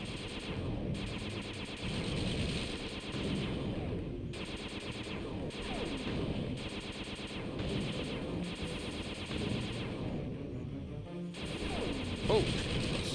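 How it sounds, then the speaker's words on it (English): A turret gun firing in the video game Sly 2: Band of Thieves, a steady stream of rapid, clattering shots and crashing impacts that stays loud and dense, with a few short gaps. "If you continue firing for too long, your gun will overheat"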